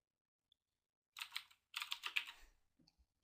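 Keys clatter on a computer keyboard as notes are typed into an accounts payable invoice approval screen, two quick bursts of close typing followed by a few isolated taps, with no talking.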